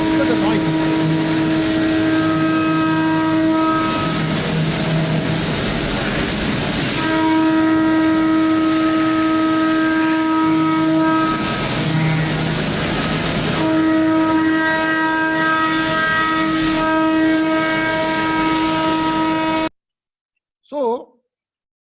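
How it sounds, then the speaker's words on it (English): A machine tool cutting a tough Inconel blade gives off a loud, continuous grinding roar with sustained whining tones that shift pitch in repeating passes, then stops abruptly near the end. "Inconel blade machining. Look at how the noise of the machining is."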